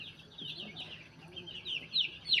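Three-day-old chicks calling, a run of thin high peeps and chirps that swells toward the end, close and moderately loud over a low background murmur.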